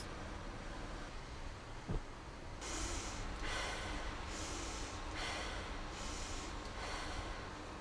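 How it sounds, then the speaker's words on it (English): Deep rhythmic breaths of the Wim Hof breathing technique come in repeated, evenly spaced inhale and exhale cycles, close and fairly loud, inside a van. "Next up, I'm doing the Wim Hof breathing technique."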